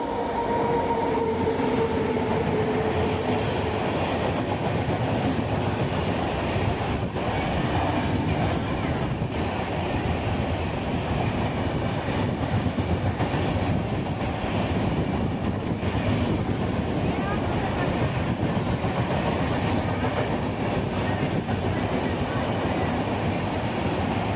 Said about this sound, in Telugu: జయ భారత్ కోసం ఎదురు చూస్తూ ఉన్నామా సూపర్ ఫాస్ట్ వచ్చేసిందండి